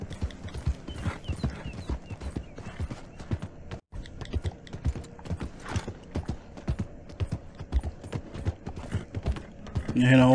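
Horse hooves clip-clop steadily in the online western video game Red Dead Redemption Online, a quick rhythmic trot of close, crisp hoofbeats running throughout, briefly pausing midway.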